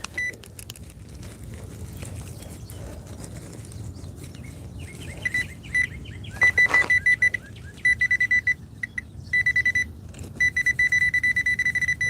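Repeated electronic beeps and warbling tones from a metal detector over mixed signals and iron, in choppy bursts over low outdoor background noise, growing more frequent toward the end.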